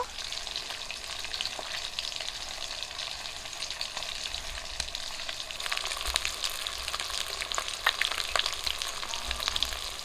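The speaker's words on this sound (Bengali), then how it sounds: "মাছগুলো হয়ে গেছে তুলে নেব বাকি মাছগুলো একই রকম করে ভেজে নেবো" Bata river fish sizzling steadily in hot oil in a pan, a dense, continuous crackle with occasional sharper pops that grows a little busier in the second half.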